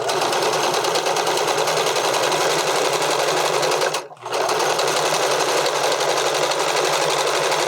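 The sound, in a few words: sewing machine stitching a bodysuit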